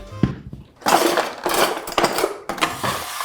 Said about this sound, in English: And let's just give that a whisk.